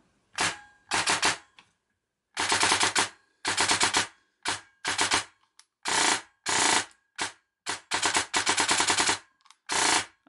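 An electric airsoft gun fitted with an entry-level OPTION No.1 plug-in brushless motor fires close-up full-auto bursts, roughly ten sharp, rapid rattling strings of varying length separated by short silences.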